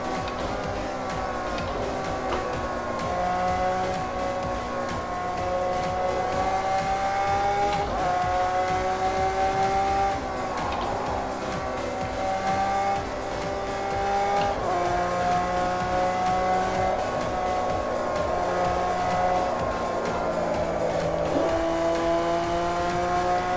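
A car drives fast on a race track, its engine note rising through the gears in repeated climbing sweeps, loud and steady throughout with occasional tyre noise.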